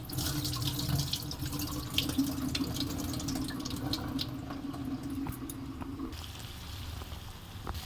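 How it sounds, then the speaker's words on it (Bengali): Rice being washed under a running kitchen tap, a steady close stream of water splashing into grains in a bowl, with faint swishing and clinks, no talking. "এখানে আমি চালটা ধুয়ে নিচ্ছি"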